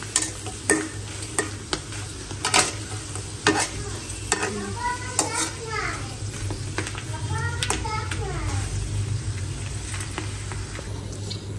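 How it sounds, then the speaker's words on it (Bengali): Potato chips fry in a pan with a continuous sizzle and repeated stirring scrapes, while children talk and play nearby in a home kitchen. "তো এখন হলো আবদিয়াকে চিপস ভেজে দেবো।"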